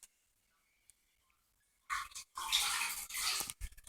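A grout sponge rinsed in a bucket of water after grouting a tile floor: near-silence with a few faint drips, then a loud splashing, sloshing swish lasting about two seconds.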